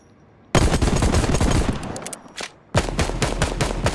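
Pistol gunshots in the VR shooter Hard Bullet: rapid, loud bursts of sharp shots fired in quick succession, a short pause and then another fast volley, very close.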